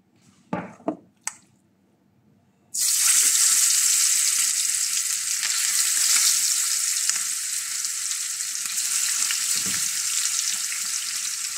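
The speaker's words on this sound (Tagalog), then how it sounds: "At pag mainit ng ating oil, prito na natin ang ating chicken." A few soft clicks, then a loud, steady sizzle of chicken frying in hot oil starts suddenly and continues close by without a break.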